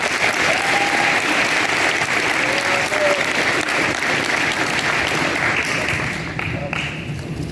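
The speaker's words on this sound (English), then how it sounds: "Let's give him a round of applause." Loud, sustained round of applause from a crowd at a high school athlete's signing ceremony, dense clapping filling the room that eases slightly near the end.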